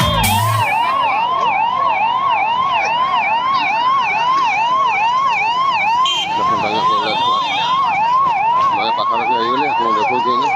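A fire engine siren at a hotel fire in Bada Danda, Puri, wails loudly and continuously in rising and falling sweeps, with a second siren layered in during the latter half.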